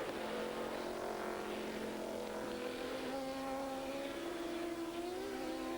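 An Audi race car in an American Le Mans Series race accelerates up through the gears past the pit lane, its engine note climbing steadily under constant track noise, heard from a distance.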